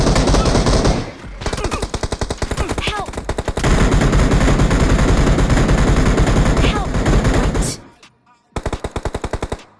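Rapid automatic gunfire from an M4 Glacier rifle and other weapons in the BGMI (PUBG Mobile) video game, loud sustained bursts with brief pauses, cutting out near the end before a final short volley.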